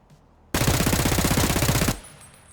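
Sustained automatic fire from an MP7 in Escape from Tarkov, one loud continuous burst of rapid shots lasting over a second, then an abrupt stop into quiet.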